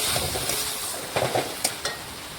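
Fried okra being stirred and cooked in a pan, with a continuous sizzle and several sharp scrapes and clacks of the spatula against the pan.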